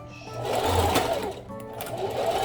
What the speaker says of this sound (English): I'm just sewing along, making sure I'm grabbing all those layers.